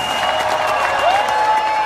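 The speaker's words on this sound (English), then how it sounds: "Applause, please." Applause from a large audience at a cryptocurrency event in Wembley, London, a continuous sustained roar of clapping with a faint voice calling out over it.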